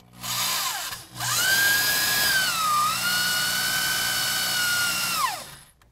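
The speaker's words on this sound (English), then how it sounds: "Next, we're going to drill a 5/8 hole into our plastic kickout." Power drill boring a 5/8 inch hole into a plastic kickout while installing a tonneau cover on a 2014 Ford F-250, a brief start, then a loud sustained high whine that dips in pitch midway before winding down.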